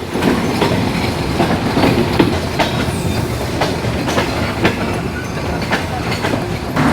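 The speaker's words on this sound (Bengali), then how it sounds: "আমাদের ট্রেন প্রবেশ করতেছে আমাদের যাত্রার প্রথম স্টপেজ বিরামপুর রেলওয়ে স্টেশনে" The Chilahati Express enters Birampur railway station with a continuous rumbling roll and rhythmic clickety-clack of wheels over rail joints, heard loud from on board.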